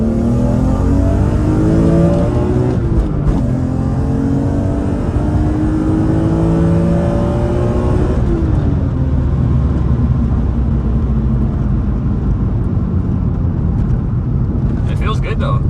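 Dinan-tuned BMW E46 M3, run hard on a test drive after sitting for four years, with its engine revving up through gears in loud rising sweeps, a shift break between pulls, then a rumbling cruise heard from inside the car.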